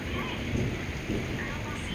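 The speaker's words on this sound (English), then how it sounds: "Thunderstorm is moving through." Heavy thunderstorm with downpour in the Ardmore area on a summer evening; dense, continuous rain hiss with low rumbling thunder underneath, steady and fairly loud throughout.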